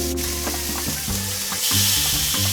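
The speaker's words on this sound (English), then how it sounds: "clear some space for these wings. Season side down in the pan." Seasoned chicken wings sear seasoned side down in a hot pan, a loud steady sizzle with occasional stirring clatter, growing brighter and more intense partway through, with no one talking.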